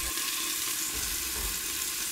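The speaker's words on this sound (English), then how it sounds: "Add mashed garlic. Use a cooking spoon, stir it in the cooking oil." Scallion and mashed garlic sautéing in hot cooking oil, a steady bright sizzle and crackle that holds constant and close without pause, with no voices.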